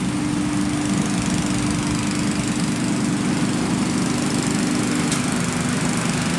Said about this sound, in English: This guy's vacuuming here, cleaning everything.